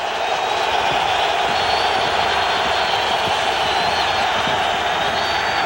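Football stadium crowd at a Raiders–Titans game swelling into a loud, sustained roar of cheering that stays constant and broad for the whole stretch.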